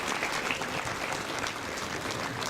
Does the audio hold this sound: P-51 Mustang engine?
no